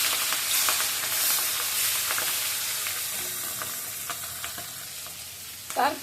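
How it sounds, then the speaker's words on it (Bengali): Hilsa fish pieces go into hot oil seasoned with fenugreek seeds in a pan. A close, steady sizzle carries a few stirring scrapes, and a sharper burst of frying comes near the end. "তারপরে ইলিশ মাছগুলো ছেড়ে দেব।"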